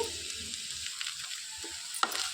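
Ivy gourd pieces with tamarind fry in a pan for coconut chutney, a soft steady sizzle with light stirring scrapes and one sharp clink, close and without talk.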